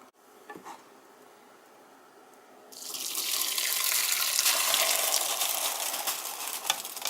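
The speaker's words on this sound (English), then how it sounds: "you'll add the bean juice in here" Bean juice pours into a pot of rinsed rice, a broad rushing splash starting a few seconds in and continuing steadily to the end after a quiet lead-in with faint kitchen clinks.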